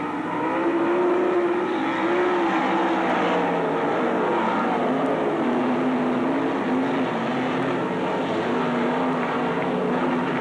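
Dirt track race cars roar around the Magic City Speedway oval in Billings, Montana, a steady loud engine drone with shifting pitch as the pack circles the first lap.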